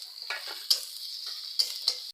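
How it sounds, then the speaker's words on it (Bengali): A ground spice paste fries with chopped tomato and ginger in a pan, giving a soft, steady sizzle broken by a few sharp spatula scrapes and clinks. "মশলাটা ভালো করে ভেজে নিচ্ছি এবার টমেটো কুচো দিয়ে দিচ্ছি"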